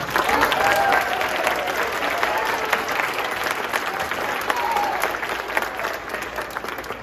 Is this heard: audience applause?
yes